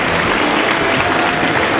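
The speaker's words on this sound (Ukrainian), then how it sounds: "Отож, друзі, ще ваші гучні оплески Ігорю Валерійовичу." Dense, steady applause from a festive spring concert audience fills the hall, a continuous even roar of many hands clapping without pause or break.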